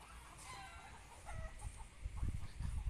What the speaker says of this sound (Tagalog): So meron din silang mga alagang manok